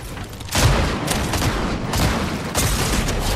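Shotgun blasts in Fortnite, three or four loud, close booming shots spaced roughly a second apart over a busy game background.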